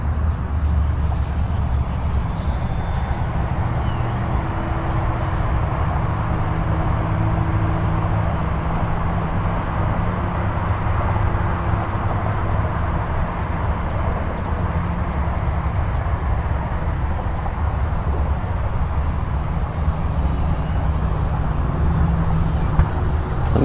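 An E-flite Micro Draco RC plane makes a low flyby, its steady motor drone holding at an even level for the whole stretch with faint tonal whine over a broad rushing wash and no talk.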